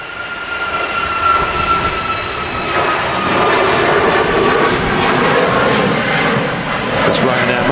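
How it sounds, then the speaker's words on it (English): Ryanair Boeing 737 MAX jet taxiing out for departure to Bucharest, a loud, sustained engine roar with a thin whine on top, holding steady throughout with faint voices underneath. "It's Ryanair Max off to Bucharest."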